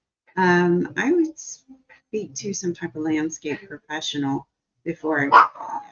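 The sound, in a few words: dog barking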